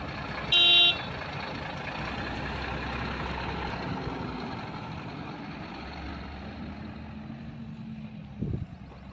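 A tipper truck pulls away in automatic drive after being put into gear, with a low engine drone running steadily throughout, a brief beep near the start and a small clunk toward the end.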